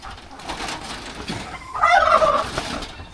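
A farm turkey lets out a loud, rapid gobble in the middle of the clip, standing out clearly over faint background rustle with no talk.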